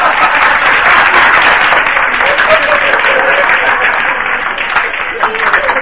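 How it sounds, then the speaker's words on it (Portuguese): Audience applause at a live stand-up comedy show, a dense wash of many hands clapping steadily, loud and sustained throughout, with a voice talking over it. "Olha as palmas, pô."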